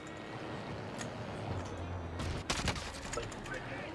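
Gunfire in an online shooter game, with a bass-heavy hum during the first half followed by a dense cluster of sharp shots near the end, all close and loud.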